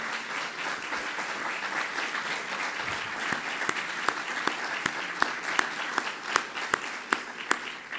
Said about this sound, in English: I want to give them a real round of applause